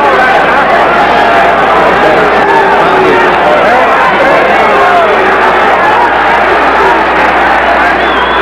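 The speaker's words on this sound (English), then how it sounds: "the crowd in a state of definite unrest over the antics of the referee" Boxing crowd at a USA vs Cuba 1980 amateur bout, unsettled over the referee, fills the arena with a dense, steady roar of chatter and shouts, loud and continuous throughout.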